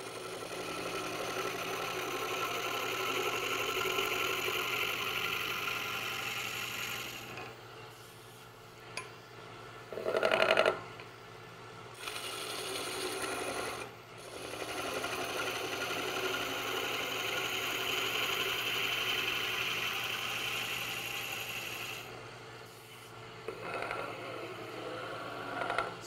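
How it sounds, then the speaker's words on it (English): A wood lathe turning a candlestick blank with a roughing gouge hums steadily with a rough, continuous cutting rasp, broken by a few short pauses and scraping bursts. "if you'd like to use a roughing gouge to get this round"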